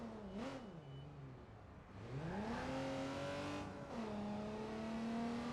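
A car engine revving and accelerating through rising gear sweeps in the video game Watch Dogs 2, loud and close, with two brief drops between climbs as it picks up speed.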